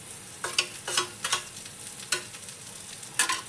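Sautéing onions and tomatoes in a pan get stirred with a utensil, giving soft intermittent scrapes and rustles over a quiet, low sizzle, close up with no talking.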